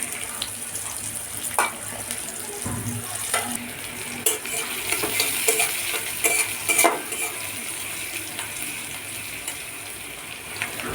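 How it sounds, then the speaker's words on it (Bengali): Chopped onions and green chilies fry in a pan with a steady, moderately loud sizzle and occasional stirring clatter, with no talk. "এখন এগুলো ভেজে নিব।"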